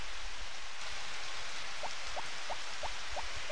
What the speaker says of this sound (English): Damn rainy days.